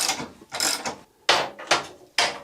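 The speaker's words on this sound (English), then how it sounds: "I can spin the rear wheel" A Yamaha Virago 535 rear wheel lifted on a stand and spun by hand gives several separate bursts of mechanical clicking and whirring, each starting sharply and fading, close and fairly quiet.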